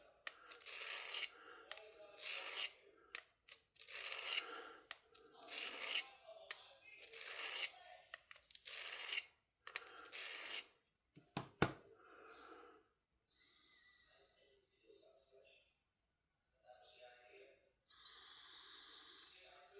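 A knife blade is drawn repeatedly across a Work Sharp folding field sharpener to raise a burr: a run of crisp, rhythmic rasping strokes, followed by softer, sparser scraping and light handling sounds.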